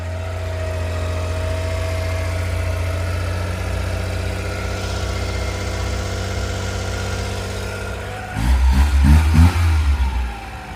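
A 1997 Suzuki Carry engine idles steadily through a new quiet exhaust with a low, even drone, then gives a brief louder rev near the end. No one speaks.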